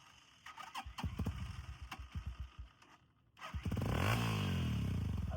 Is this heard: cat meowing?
no